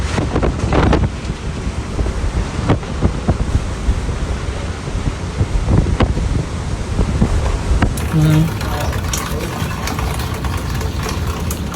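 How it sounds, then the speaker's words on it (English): Strong wind gusts of near low-grade hurricane intensity during a severe storm in Illinois roar and buffet the microphone in rough, continuous gusts, with surging rumbles and no speech. "These violent wind gusts easily matched the intensity of a low-grade hurricane"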